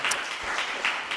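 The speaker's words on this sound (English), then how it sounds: "Give them a warm applause." Warm applause for two webinar speakers at an online Netherlands Violin Competition session, a brief steady patter of many hands clapping, fairly close and even in level, with no talk over it.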